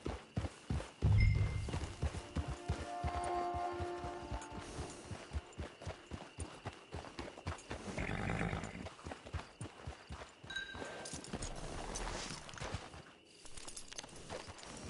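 Horse hooves clip-clop at a steady walking rhythm in a video game, close and clear throughout. A brief rumble and a short snort sound over the hoofbeats, with soft game ambience underneath.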